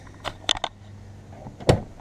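Double door on the passenger side of a Class B RV being opened, a few clicks and latch knocks followed by a louder clunk, close up and alone.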